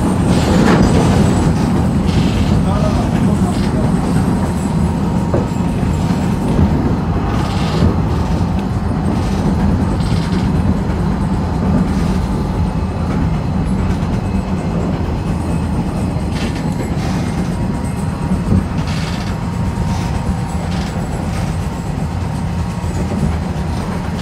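A meter-gauge electric tram on the single-track rural line of the Arad network in Romania rolls along with a continuous loud rumble, steady wheel clatter and occasional squeaks, heard from on board with no talk.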